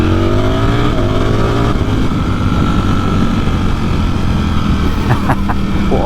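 Ducati Streetfighter V4S motorcycle accelerating hard on an open road out of town, a loud rising engine note climbing through the revs, then a gear change and a steady roar with wind rush, heard from the rider's position.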